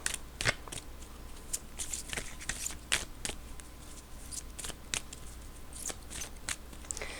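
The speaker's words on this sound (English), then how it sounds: "All right, almost done shuffling." Tarot cards are shuffled again and again, crisp riffling snaps and flutters repeating in an irregular rhythm, close and fairly quiet.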